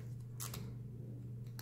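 Wavy-edged craft scissors snip paper for a winter collage, two or three quick, faint cuts standing out against a low steady hum.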